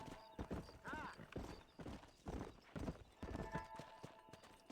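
Quiet, steady clip-clop of horse hooves trotting along in the video game Red Dead Redemption, with a brief whinny early on and faint background sound throughout.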